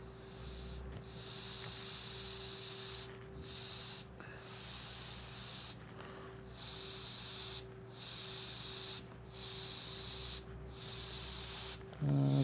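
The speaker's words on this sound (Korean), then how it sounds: "컴프레셔가 좀 시끄럽죠" An airbrush hisses in bursts of roughly a second or two, separated by short pauses, while an air compressor hums steadily underneath the whole time.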